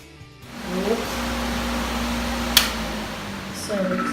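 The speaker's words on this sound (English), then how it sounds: "excuse the fan, this is how I actually like to dry it up" An electric fan runs in a bathroom, blowing to dry the floor: a steady, moderately loud whir with a low hum that holds evenly throughout, broken by one sharp click partway through.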